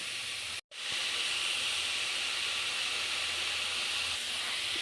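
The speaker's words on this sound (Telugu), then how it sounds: "పచ్చివాసన అంతా పోయేదాకా క్యారెట్ తురుముని వేయించుకోవాలి" Grated carrot frying in oil for carrot halwa gives a continuous, even hiss, broken once early by a brief silent gap and then steady to the end.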